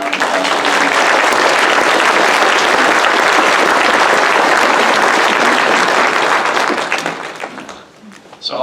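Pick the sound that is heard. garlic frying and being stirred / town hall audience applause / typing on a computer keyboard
town hall audience applause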